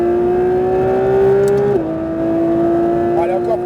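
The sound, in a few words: Porsche 992 GT3 RS accelerating at full throttle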